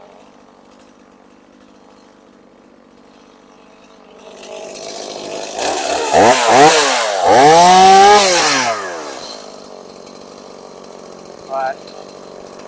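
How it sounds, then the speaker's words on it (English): A chainsaw cuts brush on a slope being hand cleared. It rises loud and close for a few seconds with sweeping revs, then drops back to idle. Someone speaks briefly. "Actually, it's a lot quicker with a chainsaw."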